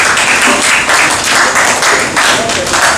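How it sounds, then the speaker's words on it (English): Guests at a charity golf tournament presentation applaud the donors, brisk, loud clapping from a nearby crowd with a steady, pulsing texture. "A round of applause for them."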